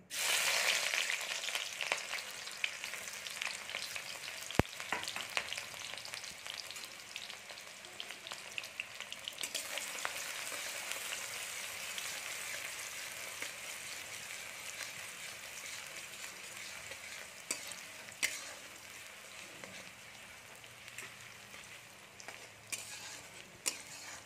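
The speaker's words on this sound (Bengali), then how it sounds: "এবার আমরা এর মধ্যে দেবো পেঁয়াজ কুচি।" Chopped onions fry in hot oil in a wok with a loud, steady sizzle and crackle that fades slightly over time, alongside occasional stirring scrapes and no voices.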